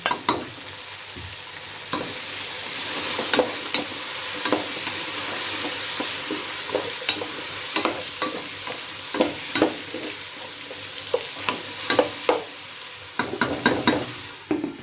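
Beef and onions cook in a pot for pulao, giving a steady hiss of frying with repeated scraping stir strokes against the pot that grow busier toward the end, close and with no talk.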